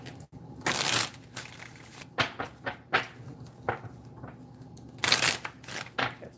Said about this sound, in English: we'll pull a couple cards on money